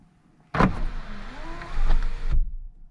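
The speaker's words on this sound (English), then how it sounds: "I can use this to actually open the sunroof" Car sunroof driven open by an OBD2 scanner actuation test, a steady electric motor whir with soft clunks at start and stop, running about two seconds close by, no speech.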